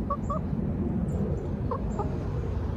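A Silkie chicken, the feather-footed breed with extra toes, clucks in short soft bursts close by, a few chirpy notes over a steady low background rumble.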